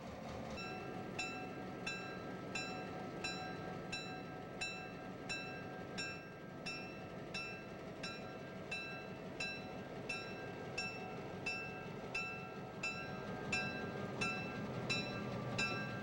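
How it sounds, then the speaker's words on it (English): A pair of FP7 diesel locomotives, helped by an EMD GP9, haul a Wyoming Colorado Railroad freight train out of Laramie, a steady distant rumble with a regular ticking clatter and a faint sustained tonal whine running throughout. "Engineer JP Pallow and his conductor, Lloyd Brown, bring the pair of FP7 locomotives out of Laramie, being assisted by an EMD GP9 diesel"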